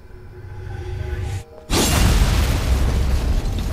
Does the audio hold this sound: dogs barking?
no